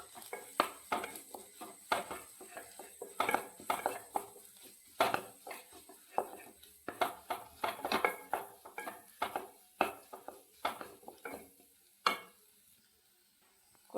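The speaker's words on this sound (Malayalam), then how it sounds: "മുളക് പൊടി, മഞ്ഞൾപ്പൊടി, കുരുമുളക് പൊടി, എല്ലാം കൂടെ നല്ലോണം ഒന്ന് യോജിപ്പിച്ച് കൊടുക്കുക" Chopped chapati is stirred with chili, turmeric and pepper powder in a pan. A spatula scrapes and taps in quick irregular strokes against the metal, with a soft sizzle underneath and no voices.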